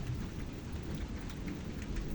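Heavy thunderstorm rain pouring down, a dense steady hiss of drops hitting surfaces with low rumbling underneath, continuous and fairly close, no voices.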